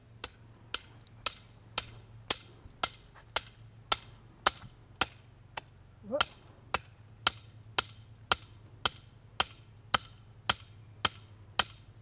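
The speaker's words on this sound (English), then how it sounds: "Ah, yes, it is a tiny hammer." A tiny hammer tapping while weaving a willow hurdle privacy fence, about twenty sharp, regular knocks at an even pace, moderately close, with a low steady hum underneath and no talking.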